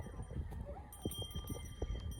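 A horse walks while carrying a rider, and its hooves clip-clop in an uneven beat close by over a faint outdoor background.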